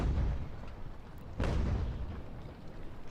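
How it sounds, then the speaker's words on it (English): Cannon and artillery fire in the American Revolution battle game Ultimate General: a low rumbling roll of distant booms, then a sharper blast about halfway through that rolls away into continued rumble, with no talking. "Just gonna keep eating artillery fire?"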